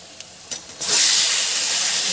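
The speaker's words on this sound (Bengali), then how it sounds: "পেঁয়াজটাকে ভালো করে এবার একটু ভেজে নেব পেঁয়াজটা। এবার দিয়ে দেবো চিকেন।" Chicken drops into a hot pan of fried onions for Kashmiri chicken, with a couple of light knocks and then a sudden loud, steady hiss of sizzling close by.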